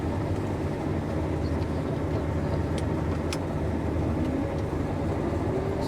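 A combine harvester engine runs in a field as a steady, dense mechanical drone and rumble, constant and fairly loud throughout, with faint clicks on top and no speech.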